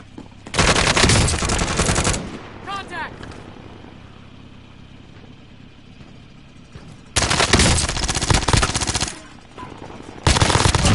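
MG82 machine gun firing in a video game: loud sustained bursts of rapid automatic fire, one long volley, a quieter gap and then two more heavy bursts, close and dominant.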